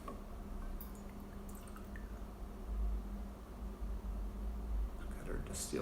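Distilled water is poured into a sourdough starter jar, a soft, close, continuous trickle with faint drips over a low background hum.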